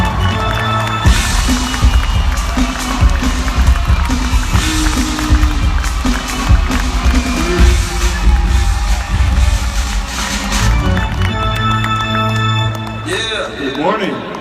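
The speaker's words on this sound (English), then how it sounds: "please give him a warm welcome and a round of applause" A crowd at an AIM Global business partners event applauds and cheers to welcome speaker Ali Peak, with dense, sustained clapping and some voices mixed in before it thins out near the end.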